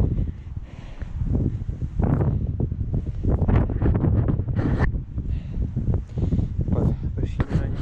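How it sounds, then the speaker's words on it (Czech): Strong, gusty wind buffets the microphone on an exposed summit at 540 metres, a loud continuous rushing roar with no voices heard. "strašně to tu fouká"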